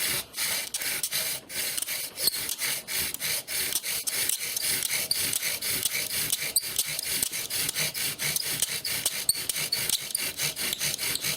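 A wooden bow drill spindle spins against its board as the cord saws back and forth, giving a steady, rhythmic rasping and rubbing with a regular pulse of strokes, close and fairly loud.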